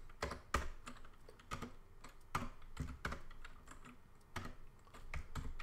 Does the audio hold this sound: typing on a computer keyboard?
yes